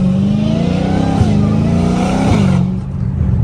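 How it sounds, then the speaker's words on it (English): A Dodge Hellcat Redeye downshifts hard, its loud engine blipping through quick gear drops with a high supercharger whine layered over the close, steady roar. "Oh my gosh, these downshifts are nasty."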